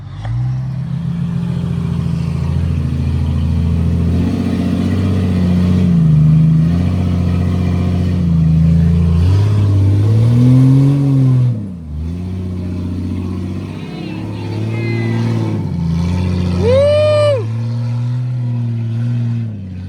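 A Jeep XJ off-road vehicle at an off-road park makes a loud, close engine drone with repeated revs rising and falling throughout, briefly dropping before climbing again, with a high whine near the end.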